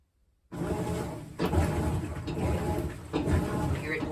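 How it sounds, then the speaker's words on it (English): GE top-loading washing machine running its wash cycle, starting abruptly after a moment of silence, then a steady mechanical churning hum with periodic thumps and swishes, close by. "So the machine is moving, the machine is washing the clothes."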